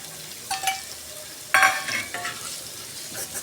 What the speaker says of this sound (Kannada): ಈ ಥರ ತುಂಬಾ ಫ್ರೈ ಮಾಡ್ತಾ ಇರಬೇಕು